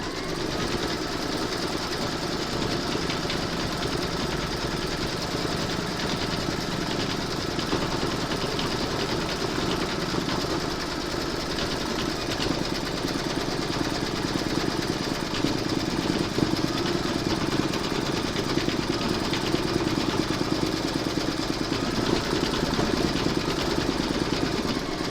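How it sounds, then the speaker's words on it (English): An embroidery machine stitching a coffin-shaped in-the-hoop coaster design: a steady, fast mechanical whir and needle chatter that runs continuously and fairly loudly, with no voices. "Load your thread colour for the cross into your machine, and then you're going to stitch round number 6"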